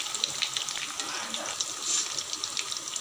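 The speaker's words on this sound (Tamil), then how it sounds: "மீதி சேப்பங்கிழங்க எண்ணெயில் சேர்த்துக்கிறேங்க சேர்த்து அதே மாதிரி பொரிச்சு எடுத்துக்கலாங்க" Taro root pieces fry in hot oil with a soft, continuous crackling sizzle and scattered tiny pops, fairly faint and close.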